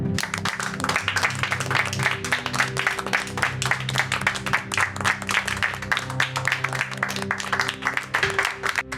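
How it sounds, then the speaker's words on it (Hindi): A classroom group claps steadily for a teacher, the individual claps distinct and rhythmic, over a low background hum. "जोरदार तालियां बजाते हैं"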